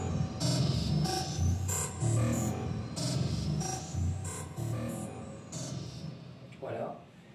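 A dense, busy electronic beat from a Roland TR-8 drum machine plays with rapid hits and cymbal sizzle, mixed into a full track at moderate level. The pattern stays steady throughout, with no clear talking over it.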